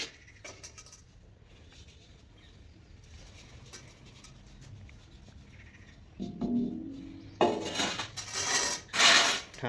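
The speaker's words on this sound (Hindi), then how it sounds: "हाँ, तो इसके अंदर ही छानते रहो उसको।" Damp soil is shaken through a 600 micron metal sieve over a pan at a construction site, with faint scraping and rattling that grows into louder, busy metallic shaking and clinking toward the end.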